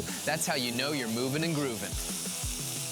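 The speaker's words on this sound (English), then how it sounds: "Man, listen to that sizzle." Chicken sizzles on a hot Blackstone griddle, a steady frying hiss that runs beneath a voice as he talks throughout.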